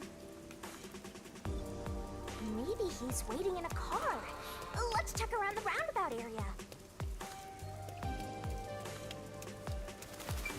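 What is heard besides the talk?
rain falling in Master Detective Archives: Rain Code video game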